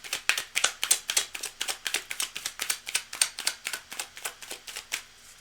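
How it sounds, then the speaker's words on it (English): Tarot cards are riffled and shuffled by hand in a rapid, steady run of crisp papery flutters and snaps, close and clear with no talking over them. "I'll just shuffle a little bit."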